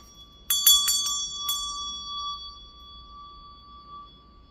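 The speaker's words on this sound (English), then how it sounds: "I am going to ring my meditation bell" A meditation bell is struck in a quick cluster of four or five strikes, then one sustained, pure ringing tone hangs on and slowly fades in a quiet room.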